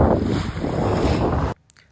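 A motorboat runs across the open sea off Devbag beach, with steady loud engine and water rush blended with wind buffeting the microphone, cutting off abruptly near the end to near quiet.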